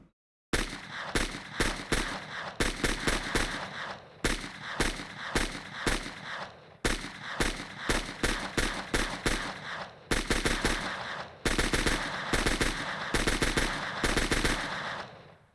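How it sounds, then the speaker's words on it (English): Rapid bursts of automatic gunfire from a gun in a Roblox first-person shooter game, loud and sharp in repeated volleys separated by brief pauses, with no talk over it. "Now when we click, the gun's gonna make a noise and it's gonna flash."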